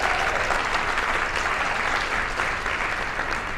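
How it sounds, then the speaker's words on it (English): A room full of people applauds at a Society of Women Engineers gathering in Seattle, producing dense, even clapping that holds steady for a few seconds. "That is worth some applause"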